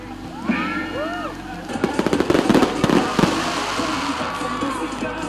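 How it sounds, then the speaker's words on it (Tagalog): Fireworks crackle and pop in a rapid cluster of bursts at a grand fireworks display during Miss Isulan 2025, with a crowd's murmur and a few whistling streaks in the background. "Giubanan sab kini og grand fireworks display."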